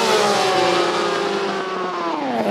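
A 1977 Opel Kadett with a four-cylinder engine accelerates hard, its loud, close engine note climbing steadily in pitch, then dipping briefly near the end as it shifts.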